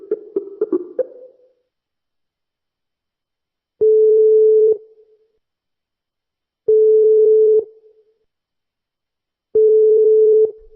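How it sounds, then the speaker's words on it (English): Telephone call tones: a short burst of dialing beeps, then three evenly spaced long ringback tones separated by silence, clear and alone. "Let me just dial her number real quick."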